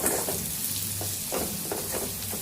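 Chopped onions fry in a pan while coriander powder and garam masala are stirred in for an egg fry, a moderate sizzle with a few soft scraping strokes and no talking.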